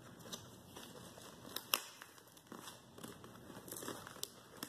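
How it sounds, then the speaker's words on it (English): Cardboard box being ripped open, a continuous close crinkling and tearing with small crunchy bursts, fairly quiet and steady throughout with no talking. "Ripping this box."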